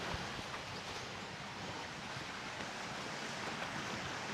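A clear river flowing near a campsite and an old tunnel in Indang, heard as a steady, even rush of water with no voices over it.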